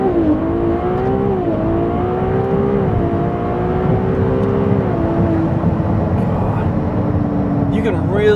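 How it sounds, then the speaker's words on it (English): A Ferrari 296 GTB launches hard from a standstill, its engine pitch climbing and dropping through quick upshifts, loud and close from inside the cabin over several seconds. "So let's see how the 296 does from a launch."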